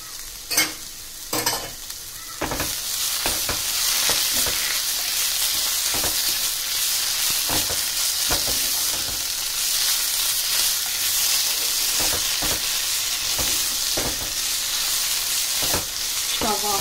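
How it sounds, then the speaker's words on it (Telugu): Pumpkin halwa with ghee and cashews is stirred in a hot pan, a continuous close sizzle broken by regular spatula scrapes and taps across the pan, with no one speaking. "ఇలా వదిలేసేదాకా మనం కలుపుకుంటూ ఉండాలి."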